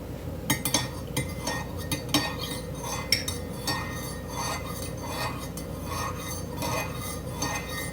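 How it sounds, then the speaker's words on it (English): A little spoon stirring coffee in a cup, giving a run of small metallic clinks and scrapes against the sides at close range, with no talking. "I'm gonna stir this up first"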